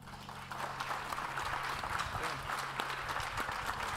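Audience applause at a Haley Library and Foy Proctor cowman's gathering: a steady, dense wash of clapping from a crowd that holds at an even level for the whole stretch, with some murmuring mixed underneath.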